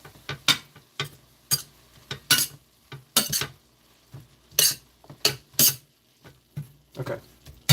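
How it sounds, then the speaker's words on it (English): Spoon stirring food in a pan while cooking chicken enchiladas, a run of sharp, close scrapes and clinks in an irregular rhythm with quiet gaps between them. "Give it a quick stir."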